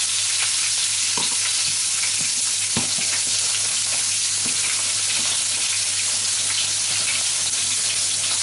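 Sausages browning in a frying pan for mini toad in the holes, a steady, dense hiss of fat spitting close by, with occasional faint pops and a light tap of a utensil, no talking.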